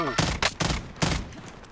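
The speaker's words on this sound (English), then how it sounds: "I'm shooting at him." Gunfire in Call of Duty: Modern Warfare Warzone, a quick burst of four or five sharp close shots in under two seconds, irregularly spaced.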